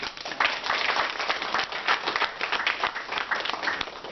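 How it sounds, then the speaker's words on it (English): An audience at a US–Taiwan partnership event applauding, a dense, steady round of clapping from many hands that holds for several seconds without speech. "But a round of applause for all of us."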